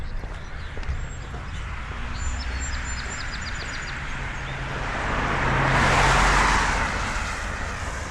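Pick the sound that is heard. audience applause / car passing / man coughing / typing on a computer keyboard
car passing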